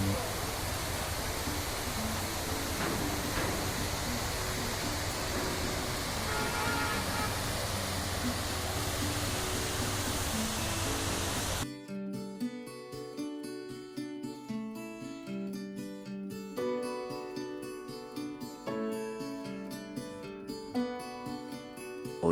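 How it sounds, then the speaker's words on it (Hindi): Drang waterfall pours as a loud, even, continuous rush of falling water for about eleven seconds, then music abruptly takes over for the rest. "आपके सामने है द्रंग वाटरफॉल"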